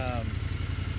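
A 2006 Triumph Scrambler with a new pickup coil and cleaned carbs, its engine running steadily up close with a loud, even pulsing throb.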